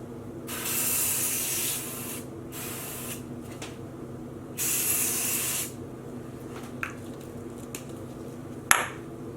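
Spray bottles mist red and orange food-colouring dye onto a knitted sock blank. Several separate close hissing sprays of one or two seconds each are heard, followed by light clicks and a sharp tap, with no talking.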